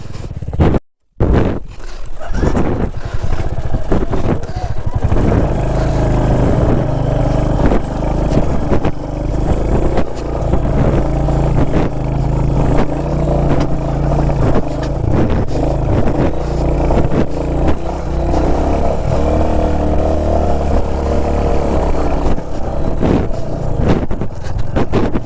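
A motor vehicle pulls away and drives on near Uchilakuth View Point in Idukki, a loud, steady engine drone with rumble and road noise lasting throughout, no talk.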